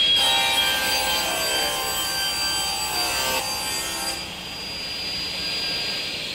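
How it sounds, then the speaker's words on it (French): A circular saw with a scoring blade, cutting in climb-cut direction, whines steadily through wood, its high-pitched cutting tone loud at first, then easing off as the cut ends and the blade spins on. "là on a une scie circulaire avec un inciseur qui travaille en avalant"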